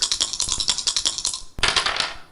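A rapid clicking ratchet of a game show prize wheel spinning, ticks coming fast and steady, a brief pause, then another burst of clicking that slows slightly.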